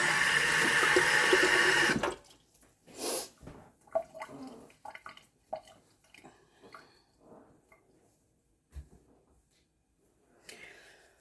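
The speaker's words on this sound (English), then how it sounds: "So, I'm going to wash my hands." Tap water runs hard into a kitchen sink for hand washing, loud and steady for about two seconds before shutting off, followed by quiet scattered clinks and handling sounds.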